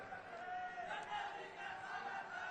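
Crowd at a Janadesh Parab political gathering in Khokhrabhatha, Janjgir, welcoming the chief guest. The crowd noise is dense and sustained, with cheering that carries on for the whole moment.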